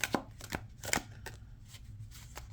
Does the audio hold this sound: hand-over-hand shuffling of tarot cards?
yes